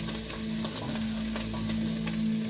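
Garlic frying in a pan, a dense, steady close sizzle with faint crackles, heard alone without any talking.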